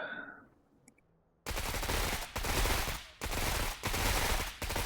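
Automatic gunfire in the turn-based tactics video game Menace, loud continuous bursts broken by short gaps, following a brief faint effect at the start.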